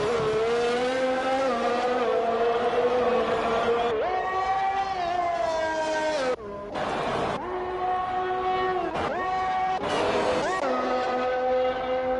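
A single-seater racing car engine in a racing video game on a flying lap at a Mexico circuit, screaming close and loud, with its pitch rising through gear changes and dropping sharply under braking while a commentator talks over it.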